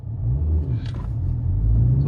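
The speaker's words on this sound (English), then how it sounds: "and I'm going to floor the car" Honda Civic Type R FK8 under full throttle in first gear, a close, loud low engine rumble building steadily over a couple of seconds.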